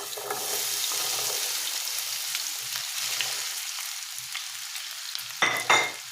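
Potatoes frying in hot oil in a pan, a steady close sizzle throughout with a brief louder crackling burst near the end.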